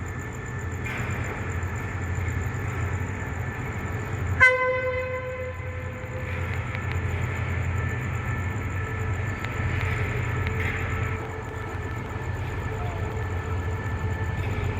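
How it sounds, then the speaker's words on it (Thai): A train pulls into a station platform on a special excursion service, with a steady low rumble of rolling cars throughout, a single loud horn blast near the middle, and squealing tones as it slows. "ขณะที่รถเข้าชานชลา ก็อย่าลงไปในราง เพราะว่าอันตรายมาก"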